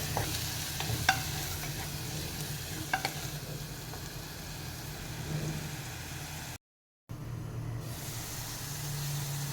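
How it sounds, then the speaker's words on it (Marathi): Ground masala paste sautéing in oil in a pan for an eggplant and potato curry, giving a steady, soft, continuous sizzle with occasional light stirring clicks and a brief dropout near the end. "हे छान तेल सुटेपर्यंत परतून घ्यायचं आहे"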